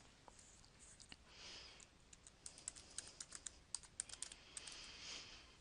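Keys clatter on a computer keyboard in a quiet room, starting as sparse taps and building into a quicker burst of close, crisp clicks before easing off.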